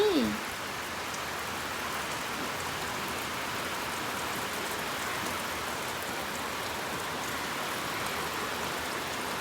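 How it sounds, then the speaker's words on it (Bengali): Rain falling outdoors on a morning, a soft, even, steady patter and hiss heard at moderate distance, with a brief faint voice at the very start. "বৃষ্টি পড়ছে বাবা, তুমি বৃষ্টি দেখছো? বৃষ্টি সুন্দর লাগছে"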